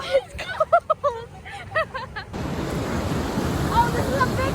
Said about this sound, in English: Oh, this is a big wave.